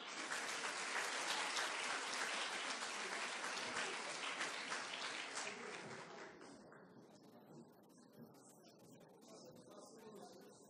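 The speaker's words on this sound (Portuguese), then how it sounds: "Uma salva de palmas." An audience at a formal event on intellectual property and innovation gives a round of dense, steady clapping. It fades to scattered claps after about six seconds.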